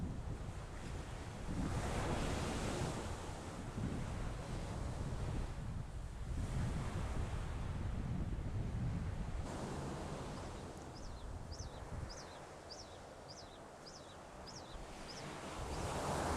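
Indian Ocean surf at Cliff Head on the coast, a steady wash of breaking waves mixed with wind buffeting the microphone, with faint high chirps of a bird later on, and no one speaking.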